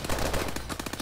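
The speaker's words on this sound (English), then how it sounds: "I just shot you to death." Rapid gunfire in the video game Call of Duty: Advanced Warfare: a quick burst of loud, close, repeating shots over about a second.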